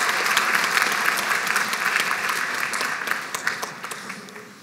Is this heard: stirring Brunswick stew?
no